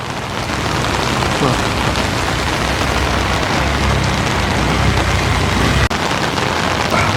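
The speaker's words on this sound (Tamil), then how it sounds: "மழை பெய்யுது" Heavy rain pours onto a flooded street in Jaffna during record rainfall, a loud, dense, unbroken roar of water that fills the whole scene.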